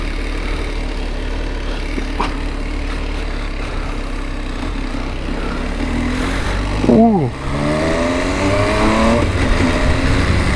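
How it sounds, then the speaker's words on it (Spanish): A 2018 MV Agusta Dragster 800RR motorcycle engine runs steadily under rough background noise, then gives one sharp rev near the end and settles back into a humming idle. "ahora sí prendimos la moto."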